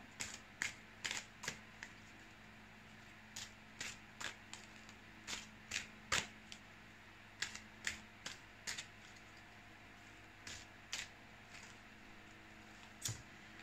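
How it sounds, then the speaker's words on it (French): Tarot cards being shuffled and drawn, heard as soft, crisp card snaps and flicks in scattered clusters, close but faint, against a quiet room with no talking. "Et maintenant, on va tirer une petite carte."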